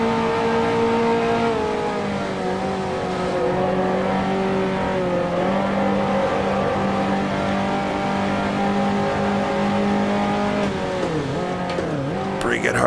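A 1955 Formula One race car in Grand Prix Legends at the French Grand Prix drops into fourth gear and climbs a hill, its engine a loud sustained drone with gear shifts changing pitch, while someone talks over it.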